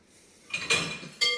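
Hand-washed cut glass glasses clink and knock against one another and the sink in a kitchen: a few bright, close, fairly loud chinks rising out of soft running-water noise, with no talk.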